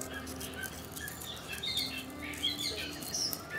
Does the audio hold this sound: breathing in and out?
no